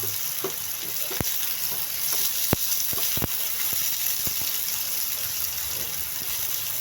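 Sliced onion hits garlic already browning in a frying pan, giving a steady close sizzle broken by sharp clicks and scrapes of stirring; no one speaks.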